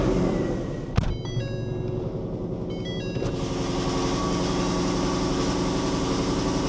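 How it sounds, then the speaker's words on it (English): A Ford Coyote V8 in a retro Fox-body car fires up cold and idles, with a sharp starter crank and catch, then a high, chattering idle that settles into a steady rumble. "I hate a cold start with a Coyote."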